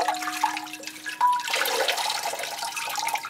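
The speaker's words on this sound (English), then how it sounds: "How many litres of water have just gone down the drain" Water runs and gurgles down a drain, a faint liquid rush with brief tonal whines and drips, fluctuating in level over a few seconds.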